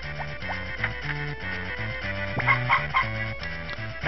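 Chickens cluck in Harvest Moon: Friends of Mineral Town as short, repeated game-sound calls over a looping, bouncy background melody.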